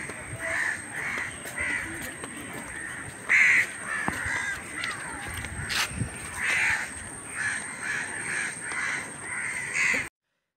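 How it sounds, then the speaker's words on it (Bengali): Crows caw repeatedly from keora trees beside a jetty on the Naf River, with harsh calls scattered over a steady outdoor background hiss. "আপনারা শুনতে পাবেন দুই পাশের কেওড়া গাছে পাখিদের কিচিরমিচির শব্দ।"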